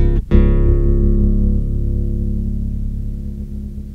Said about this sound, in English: the basic one octave down sounds quite good